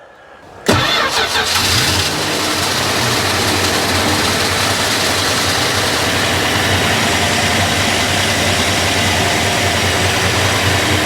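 A 1974 Dodge Dart with a Slant 6 225 engine catching on the starter and settling into a steady, loud, close idle with a low rumbling drone, just after a new fuel pump is fitted.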